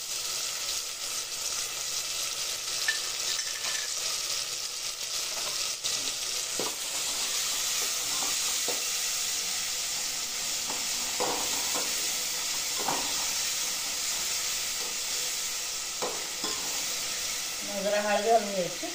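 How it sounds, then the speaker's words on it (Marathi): Onions fry with ginger-garlic paste in a pan, giving a steady, bright sizzle throughout with occasional stirring scrapes and a voice faintly underneath. "कांदा चांगला परतला आता। बायकोने आलं लसूण पेस्ट घातली आता।"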